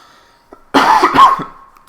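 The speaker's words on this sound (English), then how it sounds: "I'm still kind of fighting off a little bit of a cough and a cold" A man coughs hard a few times in quick succession, a close, loud burst with some throat clearing, while he's fighting off a cold during a live broadcast of a baseball game.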